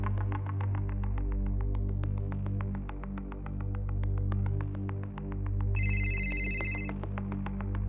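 A phone ringtone plays continuously over a low throbbing hum, with rhythmic pulses and a brighter tone layered in near the end.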